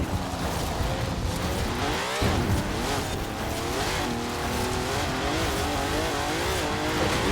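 Jaguar XJ220 in Forza Horizon 4, a loud engine note racing continuously over open fields and pavement with rising and falling revs and some tire squeal, sustained throughout with no pauses.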